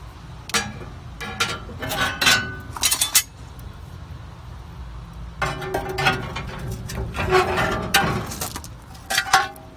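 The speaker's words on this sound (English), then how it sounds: "We're going to pull our chip pan out now." Metal chip pan of soaked wood being pulled from a smoker while making habanero beef jerky: a few close metallic clinks and scrapes in two bursts, separated by a quieter gap with low background hum.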